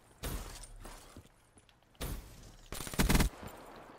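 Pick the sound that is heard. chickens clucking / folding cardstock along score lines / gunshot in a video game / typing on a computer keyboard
gunshot in a video game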